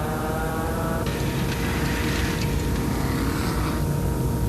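Mazda rotary-engined rally cars racing through Pennsylvania forest roads, a steady continuous engine drone with a rising higher whine partway through, distant and reverberant, no talk.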